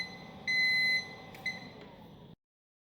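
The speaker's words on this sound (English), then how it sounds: "An alarm will sound when the countdown ends." A Procolored smoke-free curing oven's countdown alarm beeps twice, a sustained tone then a shorter one, over a low hum that cuts off abruptly.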